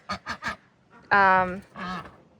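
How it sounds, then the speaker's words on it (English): Two pet ducks kept in a backyard pen give three short, quick quacks, then a longer, louder nasal call and one more quack, all close by, with a single spoken word briefly heard. "So that is our 2 ducks."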